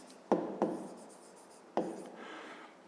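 A pen scratches on paper while a fifth-grade math solution is being written down, three short quick strokes, close and soft, with no voices.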